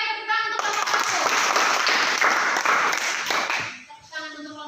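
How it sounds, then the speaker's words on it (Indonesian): A classroom applauds presentation group 1, a burst of clapping from many students that starts abruptly, holds for about three seconds and then fades, with a speaking voice before and after. "tepuk tangan untuk kelompok 1."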